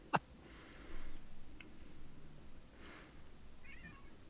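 Pet cat meowing indoors, a few faint, distant little mews spaced across a quiet room, preceded by a sharp click.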